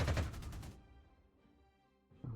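Air strafing in the strategy game Panzer Corps 2: a loud, rapid burst of machine-gun fire lasting under a second, followed by a fading rumble and a short renewed blast at the end.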